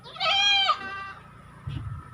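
A goat gives one loud, drawn-out bleat at a livestock handover event, followed by quieter rustling and handling noise.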